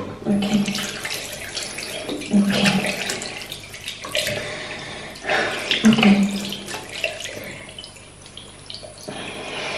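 Running water splashes into cupped hands while a milky beauty product is rinsed off, the flow steady and close with a few louder pours and splashes, no voices.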